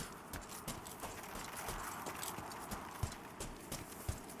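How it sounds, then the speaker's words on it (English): Footsteps crunching through snow in Pantheon: Rise of the Fallen, a steady series of regular steps walking over an icy area, moderately loud over a dense, constant wind-like ambience. "Sounds like you're walking through snow a little bit."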